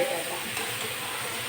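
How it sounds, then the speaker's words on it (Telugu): Eggplant pieces sizzle steadily in a pan for a brisk moment, a close, even frying hiss with no voices. "ఇలా వేయించేటప్పుడే ముక్క కొంచెం మగ్గుతుంది కదా"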